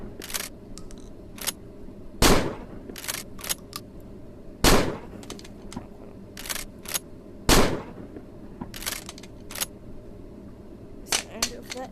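Shotguns fired at a firing range in a VR game on Quest 2, several loud single blasts a few seconds apart mixed with clicks and handling noises of reloading, with a voice talking in between.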